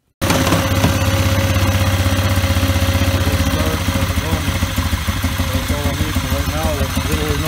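A 2003 Polaris 500 ATV engine fires up abruptly after a carburetor fuel-leak repair and settles into a steady, close, clattering idle. Someone talks over the running engine.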